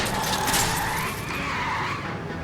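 A car in L.A. Noire slides with a drawn-out tire squeal over a steady rush of engine and road noise, loud and continuous for a couple of seconds.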